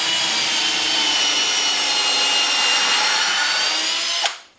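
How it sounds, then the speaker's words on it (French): A power drill bores a pilot hole through a wooden router jig, using a bit just smaller than the screw, a steady high whine running loud and close for about four seconds before cutting off abruptly. "je pré-perce avec une mèche à peine plus petite que ma vis"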